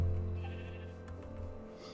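A sheep in Minecraft gives a single soft, wavering bleat that fades slowly, heard alone over a quiet game background.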